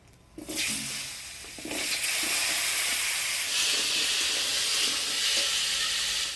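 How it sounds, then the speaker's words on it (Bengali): Whole cumin seeds and bay leaf, then chopped raw papaya, hitting hot oil for a fish curry, bursting into a loud, steady sizzle and hiss that swells and holds strongly with faint stirring clinks beneath. "এবার মাছের ঝোলে ফোড়ন দিয়ে দেবো গোটা জিরা তেজপাতা এবার দিয়ে দেবো কাটে রাখা পেঁপে"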